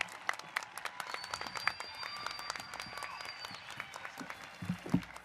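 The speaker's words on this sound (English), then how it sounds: "Give him a round of applause." Audience applause at a School of Engineering graduation ceremony, scattered claps of moderate volume from a sizeable hall with some voices and a faint whistle over the top.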